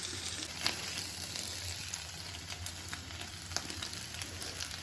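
Egg frying in a pan for street-style egg fried rice cooked at home gives a steady low sizzle with occasional soft crackles and light spatula clicks, fairly quiet and without speech.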